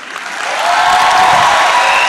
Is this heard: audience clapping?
yes